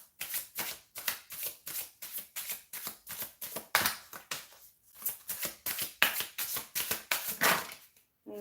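Tarot cards being shuffled by hand in a rapid, steady run of crisp riffling bursts with brief pauses, close and fairly loud with no talking.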